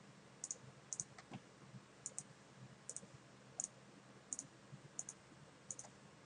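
Computer mouse clicking as nodes are placed in membrane-generation editor software, crisp single clicks at a fairly even pace, roughly one every half to one second, faint and close with no talking.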